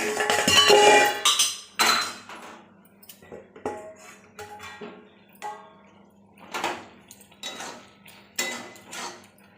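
A lid set down on a cooking pan while making a Bengali soybean dish, a few clanking metal knocks and clinks in a quiet kitchen.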